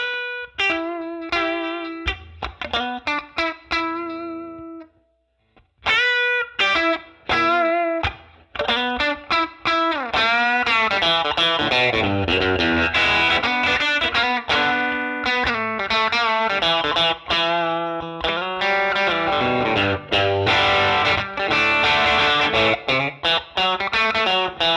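A clean electric guitar runs through a Helix model of a 1953 Fender 5C3 Tweed amp, with chiming single notes that build into dense strummed chords and melodic lines, loud and steady with no talking.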